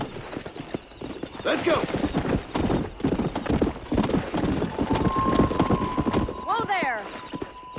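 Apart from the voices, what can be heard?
horse galloping, hooves clip-clopping, from video game Red Dead Redemption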